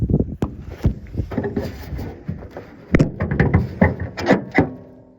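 The hood of a junkyard El Camino is worked open by hand: a string of sharp metallic clunks, bangs and rattles, close and irregular, with brief pauses between.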